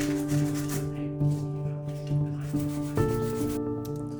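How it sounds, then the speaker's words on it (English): Sandpaper rubs glue marks off a wooden canvas frame in steady back-and-forth strokes, a close, dry scraping repeated about every half second over a constant background hum. "it was time just to go in and sandpaper down those glue marks."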